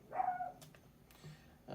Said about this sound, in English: that's my little dog out there kind of barking